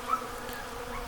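Honey bees buzzing around boxwood trees during a solar eclipse, a soft continuous hum with one brief closer buzz passing near the start.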